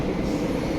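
A train heading to Newark, a steady loud low rumble of rolling rail cars heard from on board, continuous and without any talking.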